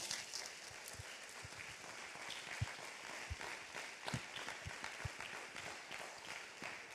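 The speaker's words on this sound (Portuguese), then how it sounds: "Por favor, aplaudam a Jesus." A church congregation applauds during a service, a faint, steady patter of clapping from a crowd heard at a distance, with a few louder claps standing out.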